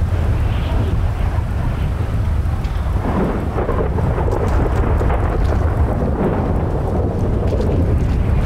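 A heavy in-game rainstorm hisses on without a break while deep thunder rolls, with gusts of wind swelling midway, loud and close, in a zombie-city survival video game; no one speaks.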